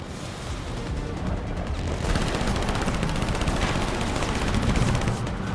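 Dense, continuous rapid gunfire in the video game Split Fiction, bursts running without pause at steady loudness, with car engine rumble beneath.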